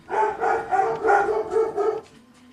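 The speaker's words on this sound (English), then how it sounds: "Barking at nothing again." A dog barks in a forest, five loud rapid barks in a quick even series, close and alone, followed by a brief quiet tail.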